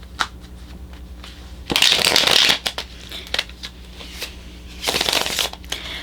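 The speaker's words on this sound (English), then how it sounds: "now I'm going to go ahead and pick some tarot cards" Tarot cards are shuffled up close in two crisp riffling bursts separated by quieter handling and light taps, with no voice.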